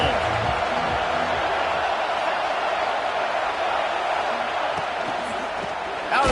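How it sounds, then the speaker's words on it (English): A football stadium crowd roars in a dense, continuous wash of cheering that stays loud and steady throughout, with no distinct individual voices standing out. "This crowd ready to make its presence known."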